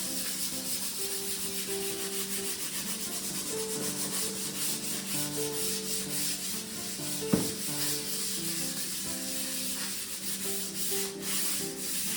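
Rust is scrubbed and sanded off an old woodworking tool, a continuous gritty rubbing and scraping at close range, with a single sharp knock partway through.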